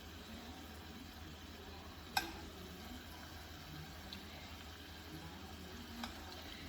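Meatballs frying in a pan, a quiet continuous sizzle and crackle with a couple of sharper pops or utensil clicks standing out, faint and steady, no talking.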